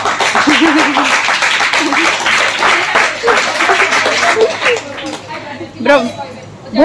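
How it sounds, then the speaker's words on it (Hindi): A crowd of children clapping in a classroom, a dense rapid burst of claps that fades after a few seconds into children's chatter and an adult speaking. "ताली मारो"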